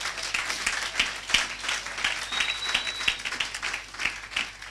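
Steady applause from a church congregation, many hands clapping in a dense, lively patter that runs throughout.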